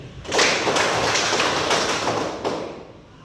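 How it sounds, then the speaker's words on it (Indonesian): A classroom of students applauding together at the end of a practice teaching lesson, a dense burst of clapping that starts abruptly, holds for about two seconds, then fades out. "Tepuk tangan untuk kita semua hari ini"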